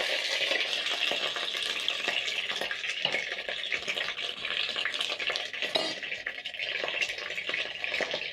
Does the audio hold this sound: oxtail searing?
yes